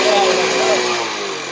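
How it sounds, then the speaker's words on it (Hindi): Chinese motorbike engine running close, a buzzy harmonic whine that wavers slightly and then settles lower, with voices talking over it. "चाइनीज की बाइक"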